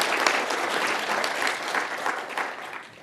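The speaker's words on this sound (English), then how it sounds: "Applause" Audience applause after a talk at PyCon AU 2019, a dense burst of clapping from a conference room crowd that holds steady, then begins to fade toward the end.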